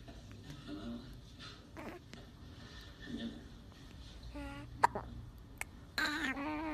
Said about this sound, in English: Somebody has a hiccup.